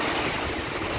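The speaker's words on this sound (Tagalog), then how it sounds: "sobrang lakas ng hangin" Strong Typhoon Odette wind roars in a dense, gusty rush in Saint Bernard, Southern Leyte, filling the air with loud broadband noise.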